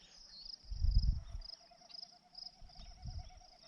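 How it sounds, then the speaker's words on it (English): A faint, pulsing winnowing hum from a Wilson's snipe's tail feathers repeats rhythmically in the distance in Idaho, over a steady high insect drone, with low rumbling noise underneath. "That noise right there. It's a Wilson's snipe,"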